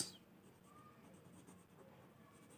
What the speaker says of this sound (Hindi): मैं यहाँ लिखता हूँ एग्जाम्पल, और एग्जाम्पल में लिखता हूँ तूबा